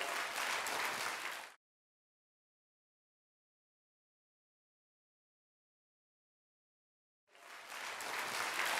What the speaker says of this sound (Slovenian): en aplavz prosim za pare, ki so super plesali salso